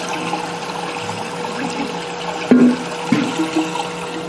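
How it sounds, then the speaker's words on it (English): Six quarts of water pour steadily into a pot for coffee amaretto chip ice cream, a continuous close rushing stream with a couple of hollow clunks near the end. "So we'll put in 6 quarts of water."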